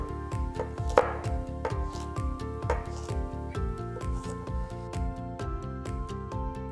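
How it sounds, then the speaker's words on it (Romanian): Knife dicing vegetables into small cubes about 5 mm across on a cutting board, a fast, steady run of crisp chopping taps, close and clear with no talk. "Și acum tăiem cuburi de aproximativ 5 mm."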